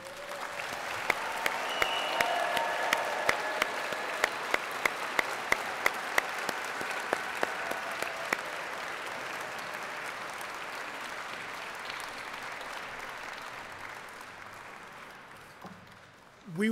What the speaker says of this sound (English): I'm going to ask everybody here to applaud our graduates for their work.